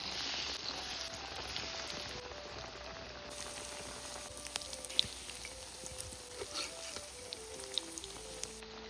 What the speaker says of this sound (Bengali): তেল গরম হয়ে গেছে, চপগুলো ছেটে দিচ্ছি।